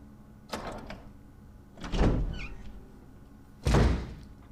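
A door in the Resident Evil Remake opens with three separate heavy wooden thunks spaced over a few seconds, each with a short resonant tail, over a quiet, humming background.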